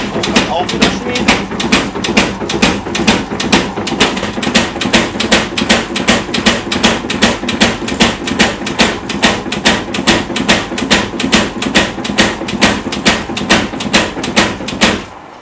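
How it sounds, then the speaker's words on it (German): Rapid, evenly spaced metallic hammer blows ring out continuously as Damascus steel is forged flat for a knife, a steady forging rhythm with no pauses. "Jetzt schmiede ich das einmal flach"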